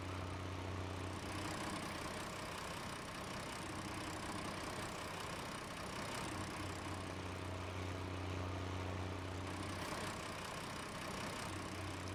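A tractor engine without a cab runs steadily in the farming video game Greenlands, a continuous low droning idle with a constant hum and no other sounds.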